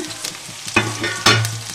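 Dried red chillies and curry leaves tempering in hot oil for a bitter gourd dish, with a steady sizzle and two sharper crackling bursts as ingredients hit the pan.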